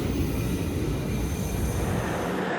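A KRL commuter train slowing under braking at night gives a steady, dense roar and rumble heard from inside the carriage, loud and continuous with no talking.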